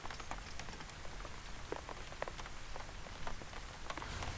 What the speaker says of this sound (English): Great fat raindrops falling on the roof.